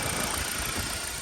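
A BMW 120i with a 150 hp engine idles steadily up close, a continuous low rumble with a faint knocking texture and no voices.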